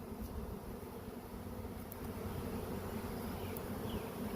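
A dense swarm of honey bees hums close by in a continuous, even buzz with no pauses throughout.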